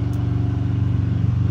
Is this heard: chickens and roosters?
no